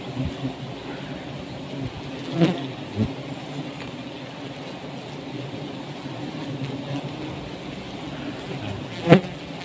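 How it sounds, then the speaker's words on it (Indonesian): Giant honey bees (Apis dorsata) at a wild forest hive make a steady, dense buzzing drone throughout, with a few nearby knocks and bumps. "Ini lebah apis dorsata yang paling besar ya."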